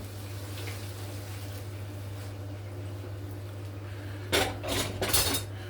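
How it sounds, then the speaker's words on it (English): A spoon clinks and scrapes against a pan while mince mixture is stirred, a few brief metallic knocks near the end over a steady low kitchen hum. "So I'm going to take a spoon, stir it in like so, and we're going to add that directly to the mince."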